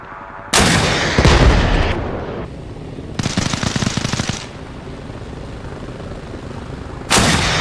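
A Vulcan cannon in the Arma video game fires in long ripping bursts, loud continuous buzzing roars separated by short pauses, with echoing rumble between volleys.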